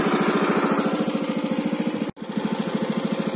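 A 196cc go-kart engine fitted to a motorized bicycle runs at a steady, loud, throbbing idle close by, with a brief cut in the middle before it chugs on.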